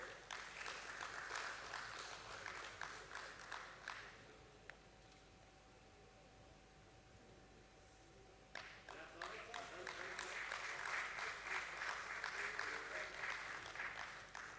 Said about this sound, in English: Please put your hands together for Mr. Rajesh Chowdhury, Group CFO.